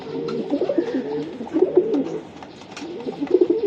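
Pigeons coo at a racing-pigeon farm in soft, rolling, repeated calls from several birds close by, with a short lull before the cooing resumes.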